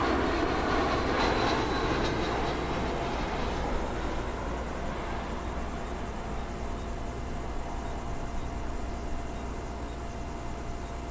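A jet airliner landing at London Heathrow Airport sends a steady broad roar of engines and rushing air from a middle distance, loudest at first and easing slightly as it goes on, with no voices.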